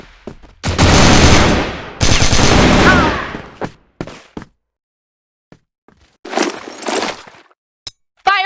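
KAC ChainSAW machine gun in the video game CrossFire, firing two loud sustained bursts of rapid automatic fire, followed by scattered clicks, a brief rattling burst of casings or impacts, and one last sharp shot.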